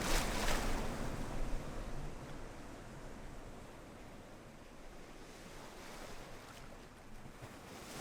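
Surf on Lake Michigan washes steadily around a wader heading out from the beach, with heavy wind buffeting the microphone throughout; no one speaks.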